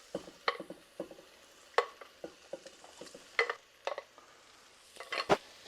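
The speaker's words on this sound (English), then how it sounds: "Now it's time to add the cabbage." Shredded cabbage going into a pan of rendered smoky bacon and shallots, with scattered clatters and stirring scrapes over a faint, steady sizzle, heard close and without talk.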